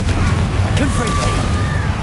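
A Confringo blasting spell explodes in Hogwarts Legacy on PS5, a dense, loud booming roar that fills the whole moment amid chaotic combat noise.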